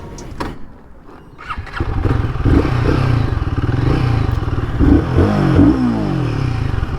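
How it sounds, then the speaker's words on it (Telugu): A Royal Enfield Guerrilla 450 motorcycle engine cranks and catches, then revs and idles with a steady, loud rumble and uneven throttle bursts, close by. "బైక్ స్టార్ట్ చేద్దాం."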